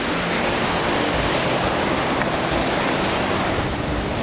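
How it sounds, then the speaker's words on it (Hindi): Waterfall in Jharkhand, the state's tallest, with water pouring from above into a valley, roaring as a steady, loud, dense rush that never breaks. "ये झरना अपना इधर है, वाटरफॉल, ये ऊपर से पानी आ रहा है"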